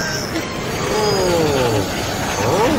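Loud metallic squealing of a cartoon train's wheels under braking, with rising and falling screeches over a steady rumble, continuous throughout.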